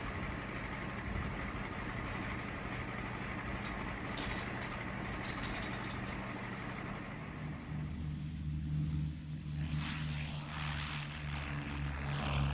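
Piston engines of a formation of Lancaster bombers flying through cloud at night, a steady loud drone with propeller hum rolling on throughout, no voices.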